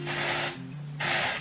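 Dove Refresh and Care dry shampoo hisses from an aerosol can onto hair roots in two close, loud spray bursts with a short pause between them.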